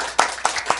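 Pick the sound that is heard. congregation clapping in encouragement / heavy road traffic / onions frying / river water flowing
congregation clapping in encouragement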